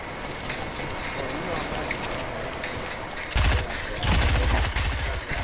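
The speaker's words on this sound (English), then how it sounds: "Somebody else down there shooting him." Rapid bursts of automatic gunfire in a shooter video game, dense and loud, growing heavier toward the end as overlapping volleys crowd together.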